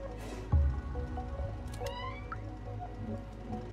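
A cat in the video game Stray gives a short meow against a quiet ambient backdrop, with a brief soft thump and faint droplet-like sounds around it.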